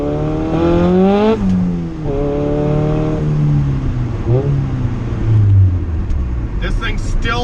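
Turbocharged Honda Civic GSR engine running under high boost on a street pull, its loud revving drone repeatedly cutting in and out as power drops and returns, with someone talking over it throughout.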